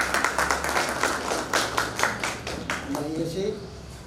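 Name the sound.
audience clapping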